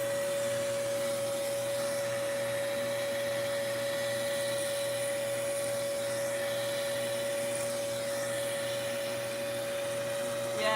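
A vacuum hair cutter runs continuously while cutting a friend's hair for dreadlocks, giving a steady, loud motor whine with a sustained high tone from start to finish.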